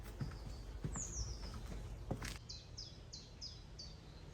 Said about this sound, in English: There was the most beautiful bird song all the way round this walk.